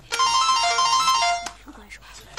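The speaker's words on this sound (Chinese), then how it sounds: "我接个电话" A mobile phone rings indoors with a bright, melodic electronic tone that repeats for over a second and then stops. Faint voices and movement follow.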